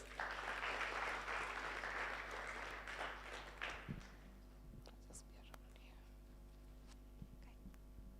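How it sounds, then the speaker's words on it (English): Applause from an audience at a child justice summit, a broad wash of clapping that fades out over several seconds, followed by quieter room noise with scattered knocks and a low steady hum. "Please give him a round of applause."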